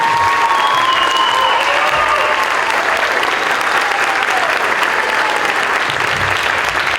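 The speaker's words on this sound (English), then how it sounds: "they deserve a round of applause too" Loud, sustained applause from a concert audience for the band directors at a spring school band concert, with a few whistles or cheers rising over the steady wash of clapping.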